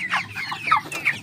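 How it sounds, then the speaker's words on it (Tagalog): Native chickens cluck close by in a few quick, choppy bursts, with no talking. "ito po yung ating native chicken"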